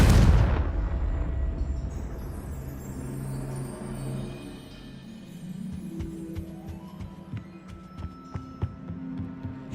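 A loud explosion from the Confringo spell in a video game, a heavy boom at the start that rolls into a long rumbling decay, followed by scattered smaller pops and crackles.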